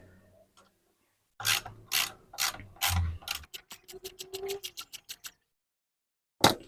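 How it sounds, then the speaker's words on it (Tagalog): A ratchet tightens a brake caliper slide pin, first several slow, heavy bursts of clicking, then a quick run of sharp ratcheting ticks, ending in one loud metallic clack. "pwede na natin higpitan itong kanyang slide pin"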